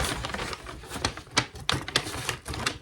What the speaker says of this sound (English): You're going to take your scissors, put your scissors right along that crease, and cut.